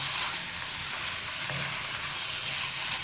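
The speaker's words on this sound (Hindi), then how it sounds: "अच्छी तरह सौते करेंगे इसके साथ, प्याज के साथ। कलर चेंज होने तक पकाएंगे इसे अच्छी तरह।" Chicken mince sautéing with onions in a hot pan gives a steady, loud, continuous sizzle and frying hiss throughout, with no talking.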